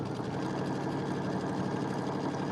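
A freshly serviced Pathfinder sewing machine stitches along a fabric edge in a steady, quiet mechanical whir with a fast, even needle rhythm throughout.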